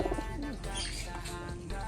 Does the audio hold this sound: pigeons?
yes